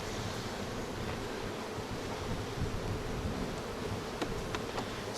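Honey bees buzz steadily and close by during a hive inspection while a honey super is pulled back, a dense continuous drone with no talking.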